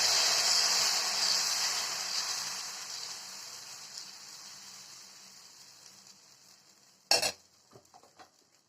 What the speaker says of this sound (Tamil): இன்னொரு தோசை சுடலாம்.